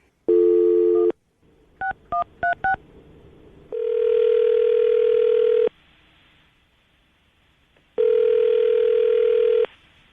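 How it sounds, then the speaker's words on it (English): Close-up phone line: a beep, a quick run of dialing tones, then two long ringback tones separated by silence. "I'm going to call him now, see if we can get him on the phone"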